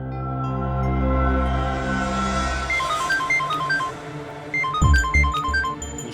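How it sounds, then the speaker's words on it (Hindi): A melodic phone ringtone plays alone, a repeating sequence of bright electronic tones over a low sustained tone, moderately loud and close, in a scene from a Hindi CID crime drama episode. "उसी का फोन है।"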